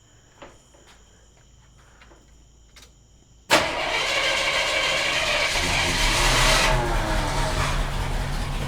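After a few quiet clicks with insects chirping, the engine of a 1978 Jeep Cherokee with a newly replaced fuel pump suddenly cranks and catches, then keeps running as a loud, steady idle close by.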